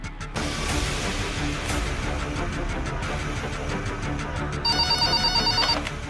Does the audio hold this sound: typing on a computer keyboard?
no